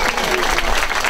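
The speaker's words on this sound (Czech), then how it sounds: "Potlesk." Loud, dense applause from a crowd at a Czech school-year opening ceremony for first graders, filling the whole short moment without letup.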